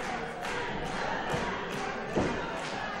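A wrestling crowd cheers in a dense, continuous roar filling the arena, with occasional thuds and swells of noise. A commentator's voice sits faintly underneath.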